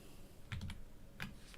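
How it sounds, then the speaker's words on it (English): Keys on a computer keyboard tap softly in two short bursts, a few quick strokes and then a couple more, close and quiet against a low background hum. "messing everything up with my keyboard shortcuts here"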